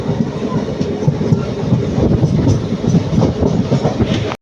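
A train runs steadily on the rails as it arrives at Ernakulam in Kerala, a continuous close rumble with faint clickety-clack of wheels throughout, no talk.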